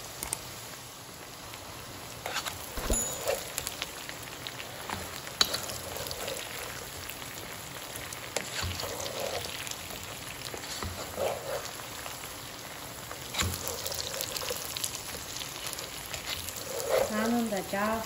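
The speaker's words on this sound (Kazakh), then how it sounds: "Анында жақсылап қуырып жіберемін. Қытырлап күшті өтеді." Bread frying in a pan until crisp, a steady crackling sizzle with patter-like pops, running beneath a person talking throughout.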